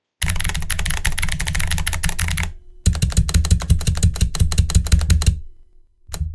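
Rapid typing on a computer keyboard with crisp, dense key clicks in two bursts separated by a short pause, close and loud, ending with a few more strikes.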